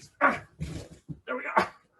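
A large young dog gives several short close barks and yips, spaced irregularly across a couple of seconds in a quiet room.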